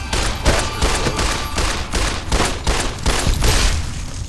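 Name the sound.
pistol gunfire in Fallout New Vegas video game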